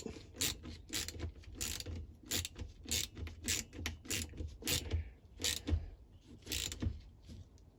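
A hand ratchet clicks in quick repeated bursts while tightening 8mm bolts on a Titan hedge cutter, with sharp close metallic pawl ticks and short pauses between strokes.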